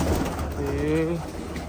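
A pigeon gives a soft, low coo close by, one rolling call over a background murmur.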